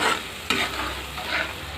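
Grated coconut stirred and sautéed with shrimp and spices in hot oil, loud close sizzling with scraping stir strokes and a few sharp clatters of the spoon against the pan.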